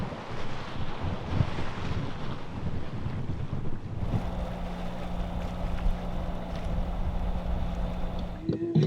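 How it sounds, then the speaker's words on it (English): A sailboat beating upwind under jib alone in 12 knots of apparent wind, with steady wind rush and water noise along the hull, a low hum joining midway and a brief knock near the end. "we're sailing only under jib and 12 knots apparent at 30 degrees apparent wind angle"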